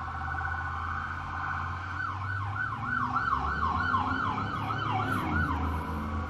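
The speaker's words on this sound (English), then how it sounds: "I've been hearing sirens all day." A wailing emergency siren rises and falls in rapid cycles over steady traffic rumble, moderately distant and continuous.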